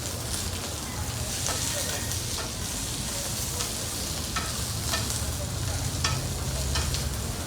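Celery leaves sizzle and crackle steadily in a hot pan as they wilt, a dense continuous frying hiss with occasional stirring clicks, heard close and without talk.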